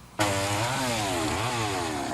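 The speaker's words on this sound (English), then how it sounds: "the early morning hours were interrupted with the sound of sawing as residents struggled to remove fallen trees from homes" A chainsaw roars to life and runs loud and close, its engine pitch rising and dipping as it cuts fallen trees after a storm in the town of Delta.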